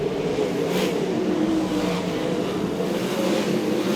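Sprint cars race at Archerfield Speedway during an A-Main, a dense, continuous engine roar from a pack of cars, loud and steady without breaks.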